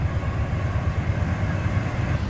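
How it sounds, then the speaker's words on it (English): A steady low rumble of a train rolling past in the video game American Truck Simulator, continuous and fairly loud throughout with no voices. "Sounds like another train is passing by"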